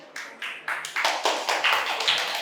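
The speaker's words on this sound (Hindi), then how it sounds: "अच्छा, खुद के लिए ताली बजा रहे हो" Students in a Class 10 science classroom clap for themselves, a rhythmic series of claps that starts sparse and thickens into steady group applause, moderately close, with no talking.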